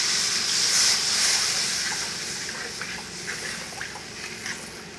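Water poured into frying masala for a Mithila-style fish curry gravy, a loud hissing rush that settles into a softer bubbling simmer with faint crackles, close and without talk.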